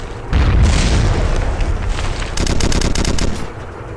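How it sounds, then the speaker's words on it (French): Loud, close gunfire in the Red Crucible Firestorm video game: a heavy boom at the start, then sustained rumbling fire and a rapid burst of automatic shots, with no talk. "il y a quelqu'un qui essaie de me tirer dessus"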